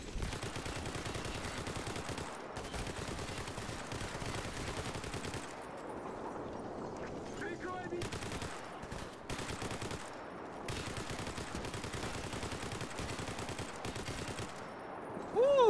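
Sustained machine gun fire in S.T.A.L.K.E.R. GAMMA, long continuous automatic bursts broken by brief pauses, dense and steady at moderate loudness, with no talk over it.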